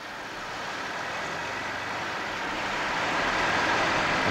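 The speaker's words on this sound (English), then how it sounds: "A 525 horsepower Found tractor provides the necessary pulling power" A 525-horsepower heavy-haul tractor pulls a double-wide Goldhofer transport combination on 128 steerable tires. The engine gives a loud, steady diesel roar with broad rumble that swells slightly toward the end, with no voices.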